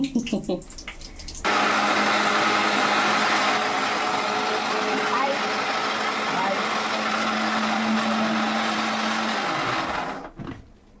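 A mixie grinder starts up with chutney inside and runs as a loud, steady motor whine with a low hum for about nine seconds, then winds down and stops.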